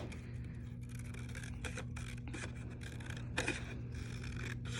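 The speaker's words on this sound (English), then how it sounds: "So notice how when I'm cutting, I'm staying inside of the black line so you can see it on the outside of my scissors there." Scissors cut out paper tree shapes in a series of short, quiet snips and scrapes over a low steady hum.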